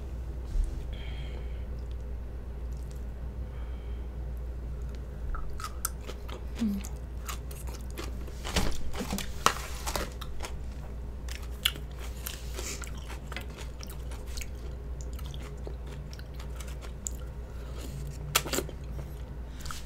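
Someone eats kimchi alongside spicy rice cakes, with close, crisp crunching bites and wet chewing scattered irregularly over a steady low background hum.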